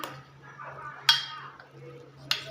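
A metal spoon clinks against a pot while cooked dal is stirred and mashed, giving two sharp clanks amid softer scraping, with a low steady hum underneath.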